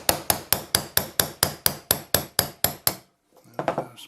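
A hammer strikes a punch about a dozen times in a fast, even rhythm to drive a pin out of an Air Arms TX200 trigger, each tap crisp and close. A brief pause follows, then a rattle of small metal parts.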